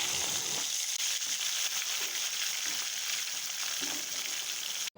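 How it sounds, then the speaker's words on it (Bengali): Pieces of bhola fish fry in refined oil, a dense, loud, continuous sizzle close up, steady for the whole stretch with no talk. "মাছগুলি এক পিঠ ভাজা হয়ে গেছে, এবারে আমি মাছগুলিকে আস্তে আস্তে আর এক পিঠ ভাজার জন্য উল্টে দেবো"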